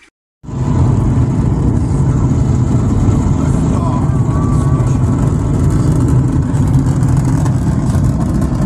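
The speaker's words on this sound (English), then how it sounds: "It's simulating the sound and vibration on our feet of the rocket launch" Steady, loud low rumble with constant vibration from a space shuttle launch simulator, starting abruptly after a brief silence and holding unbroken throughout.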